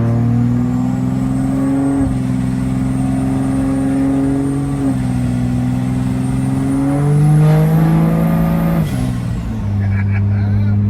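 A fun, loud pickup truck engine, not yet fully warmed up, drones close by with rising and falling revs and a whining pitch climbing near the end before dropping back to a steady rumble.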